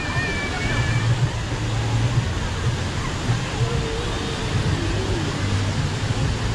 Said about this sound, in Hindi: And you can really get very close to the waterfall.